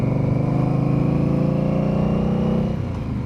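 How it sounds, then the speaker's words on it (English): Exhaust of an Indian Scout Bobber motorcycle, a steady, loud, close engine drone that holds even and then eases off slightly near the end. "enjoy the sounds of the exhaust"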